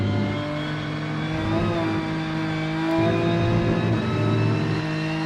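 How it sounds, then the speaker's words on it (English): A race car in the racing game Rennsport drones with a steady engine note and high transmission whine that rises and shifts slightly in pitch, loud and continuous without talk. "The transmission noise is fairly insane"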